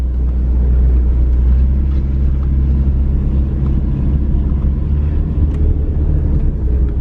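A long-unused Nissan R31 Skyline's engine runs with a steady, loud low rumble throughout as the car idles or moves slowly, with no talking.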